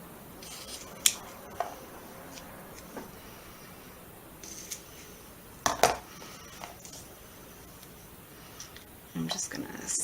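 Scissors snipping through 3M Scotch foam tape while crafting a Valentine's Day card: a few quiet, sharp snips scattered through the stretch, with soft handling rustles in a calm room.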